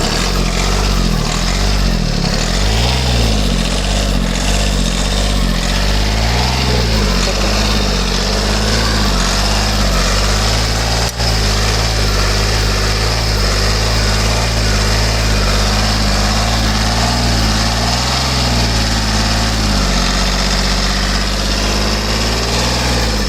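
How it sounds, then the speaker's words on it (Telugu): A loud, steady 2016 Tata Tiago XT engine idle rumbles continuously after a single self-start, close and unbroken, with a faint shift in tone partway through. "సింగిల్ సెల్ఫ్లో స్టార్ట్ అవుతుంది"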